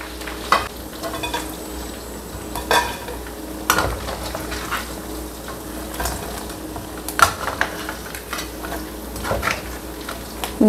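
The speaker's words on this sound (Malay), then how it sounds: "Nah ini aku goreng non halal" Non-halal meat fries in plenty of oil in a pan with shallots, garlic and star anise, a continuous close sizzle broken by scraping stirs and utensil clinks against the pan, with no talking.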